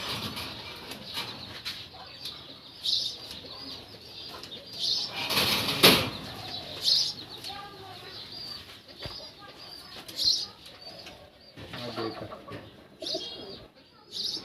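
Pigeons in a loft coo repeatedly with bursts of wing flapping and scattered chirps, a busy mix of near and farther birds, with faint voices in the background.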